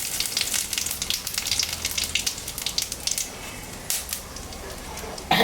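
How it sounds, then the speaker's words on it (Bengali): Whole garam masala, dried red chillies, cumin seeds and two bay leaves crackle and sizzle in hot oil, a steady bright hiss with scattered pops and a louder burst near the end. "এখানে গোটা গরম মশলা শুকনো লঙ্কা আর জিরা সম্বরা দিয়ে দিলাম, দুটো তেজপাতা দিয়ে দিলাম।"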